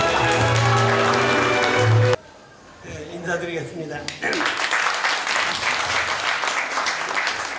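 Audience applause at a party appointment ceremony and meeting honoring a party leader, loud clapping at first, then a short spoken line, then the applause swells back up and continues.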